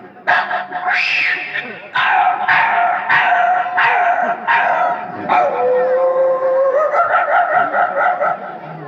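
A person imitates a dog yelping after being struck by a stone: a rapid run of loud, close, whining yips and cries, each short and sharp, ending in a drawn-out howl and a few fainter whimpers.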